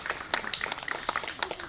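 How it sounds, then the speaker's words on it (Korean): Applause from a concert audience after a gayageum sanjo performance at a Korean traditional music talk concert, a brief burst of scattered hand claps at moderate distance. "박수 한번 더 주시죠"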